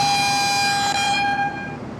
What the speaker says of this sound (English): we're just going to go through all the horns and see what they sound like.